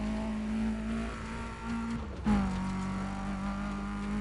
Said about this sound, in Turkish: Şu arabanın seslerine baksana abi.